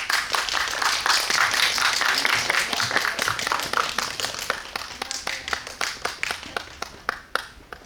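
An audience at a cinema guest-visit screening applauds to welcome the director and actors, dense loud clapping that gradually thins into sparser, fading claps.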